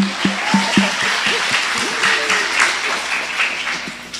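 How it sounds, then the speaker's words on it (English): Applause from a church audience at a talk about surviving the Rwandan genocide, a steady wash of many hands clapping with a few sharp nearby claps at first, continuing evenly throughout. "Give her a hand clap."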